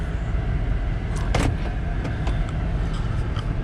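A 2007 Cadillac Escalade pulls away for a drive, its engine and road rumble steady and close throughout, with a brief sharp mechanical knock partway through and faint clicks above the hum.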